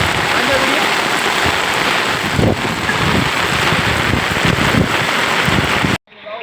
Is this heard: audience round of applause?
no